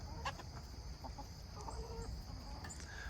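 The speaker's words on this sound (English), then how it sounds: "that's the excitement of the chickens in the morning" Chickens cluck and murmur softly in a noisy outdoor setting, with scattered short calls over a steady background rumble.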